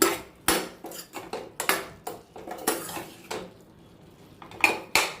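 Spoon stirring roasted seed powder into curry in a pan, a series of sharp metallic clinks and scrapes against the pan in an irregular rhythm, close and clear with brief quiet gaps.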